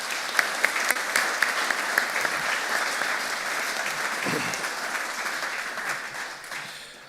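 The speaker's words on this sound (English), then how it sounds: "I would ask you to applaud the elected members of Cork City Council." Gallery audience applauding the elected members of Cork City Council at the council's annual meeting, steady dense clapping with a few sharper claps near the start, sustained throughout and fading slightly at the end.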